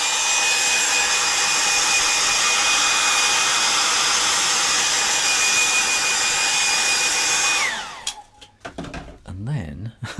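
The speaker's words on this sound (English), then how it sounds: "And it needs another whoosh with a hairdryer." A hair dryer blows loudly and steadily, then switches off and winds down, followed by someone speaking close by while drawing a cat.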